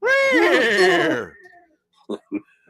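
A person's voice imitates a horse's neigh with a wavering, whinnying cry, followed by a couple of short breathy huffs.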